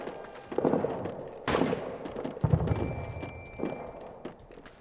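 Rifle fire on enemy troops in the World War I trench game All Quiet in the Trenches, several sharp single shots spaced out, one very loud crack with a ringing tail, over background battle noise.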